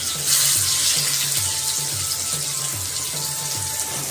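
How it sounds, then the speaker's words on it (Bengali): Sliced onions frying in mustard oil with nigella seeds, a steady loud sizzle and hiss running throughout with no talking. "কেটে রাখা পেঁয়াজগুলো এই তেলটার মধ্যে দিয়ে দেওয়া হলো।"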